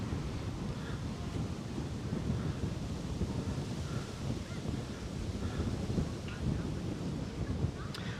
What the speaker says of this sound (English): Ooh, wind is picking up.